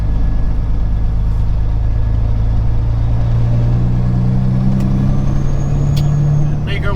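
A flatbed owner-operator's new truck drives on the I-65 South highway, heard from inside the cab as a loud, steady low engine and road rumble with a slowly rising drone and faint creaks.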